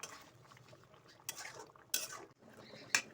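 A utensil stirs fish curry topped with chopped coriander leaves in a pan for a layered fish biryani, with quiet scraping and a few louder clinks of metal against the pan.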